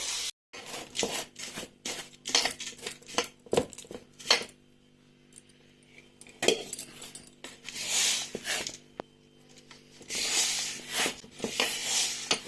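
Urad dal laddu mixture being stirred with milk in a bowl, heard as irregular clinking, scraping and tapping of a utensil against the bowl with short quiet pauses between bursts.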